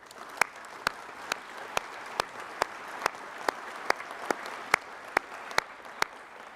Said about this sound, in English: Let's give our families a round of applause, please.